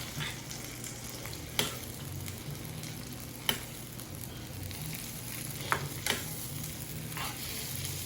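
Shrimp sizzle in garlic butter sauce in a hot pan, a steady, moderate frying hiss broken by a few sharp clinks and tosses of the pan.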